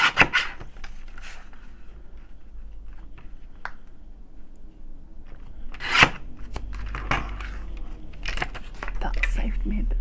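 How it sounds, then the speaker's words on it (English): A paper trimmer chopper slices through journal embellishments in a few sharp, close chops, with quieter rustling and handling of paper between the cuts while someone talks. "I wonder if I can take them off with my chopper first"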